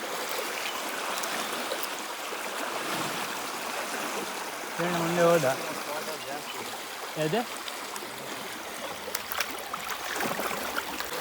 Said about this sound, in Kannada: ನೀರು ಸಿಕ್ಕಾಪಟ್ಟೆ ಫ್ಲೋ ಜಾಸ್ತಿ ಇದೆ ಇಲ್ಲಿ